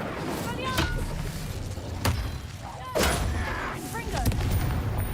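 Incendio fire spells cast in Hogwarts Legacy crack out as sharp, loud bursts at irregular intervals, with several whooshing blasts over busy game noise and faint voice-like sounds.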